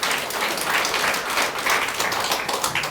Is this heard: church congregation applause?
yes